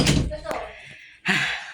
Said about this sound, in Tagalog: sinasarad po namin yung pinto